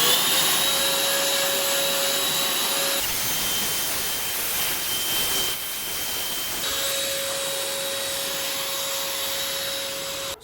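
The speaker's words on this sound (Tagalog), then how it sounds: "At finally yung blower." A loud, steady whooshing blast from an air blower cleaning computer parts runs for several seconds, broadband and continuous, over a constant background hum.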